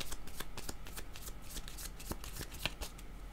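Tarot cards being shuffled by hand, a quick rapid run of soft papery riffles and flicks, close and fairly quiet, with no talk.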